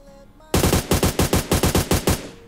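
Automatic rifle fire in the mobile game PUBG Mobile on the Sanhok map, a loud close burst of about a dozen rapid evenly spaced shots lasting two seconds after a quiet start.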